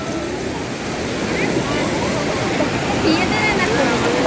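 Sea waves washing ashore at Puri beach, a steady broad roar of surf that swells slightly louder toward the end, with faint voices of beachgoers mixed in.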